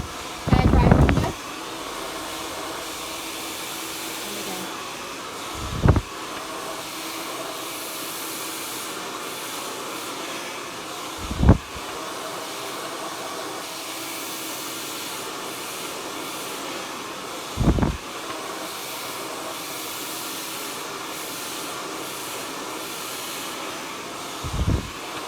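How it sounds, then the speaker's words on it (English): A hair dryer runs as a continuous airy hum during a home blow-dry, broken by four or five brief loud bursts spaced several seconds apart. "Hairdryer under"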